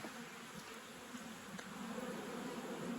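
Honeybees buzzing at an open hive during an early spring apiary inspection, a faint, steady droning hum of many insects that swells slightly toward the end, with no voices.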